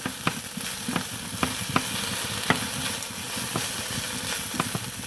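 Food sautéing with garlic in a pan over low-to-medium heat, a soft continuous sizzle broken by a series of sharp utensil clinks and scrapes as it is stirred around.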